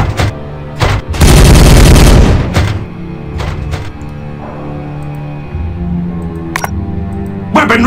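Space Marines open fire in the Warhammer 40,000 Regicide video game: a dense, loud burst of gunfire crowded into about a second, with scattered sharp shots and thuds before and after it over a low game ambience.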